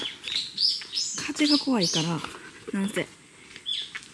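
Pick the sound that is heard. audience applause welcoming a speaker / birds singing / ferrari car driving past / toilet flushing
birds singing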